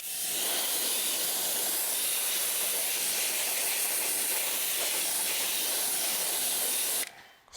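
A pressure washer rinses wheel cleaner off the wheels of a 2016 Mini Cooper, a loud, steady, close hiss of spraying water that runs for about seven seconds before cutting off abruptly.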